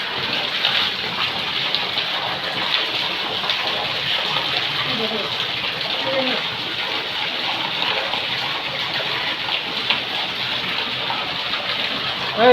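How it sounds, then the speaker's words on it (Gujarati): Heavy rain pours down in a dense, continuous hiss that stays loud and even from start to finish, like a steady wash of water. "ફૂલ વરસાદ આવે જો"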